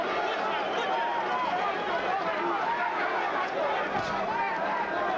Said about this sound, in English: And the chants of Lewis from the crowd.